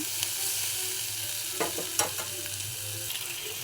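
Food frying in a pan with steady sizzling, stirred in a short burst of several spoon scrapes and knocks near the middle, with no talking.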